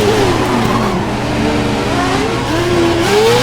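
A Formula 1 car from the F1 2011 game at full throttle on the Canada circuit, a loud, steady high-pitched engine scream with rising and falling revs through gear changes.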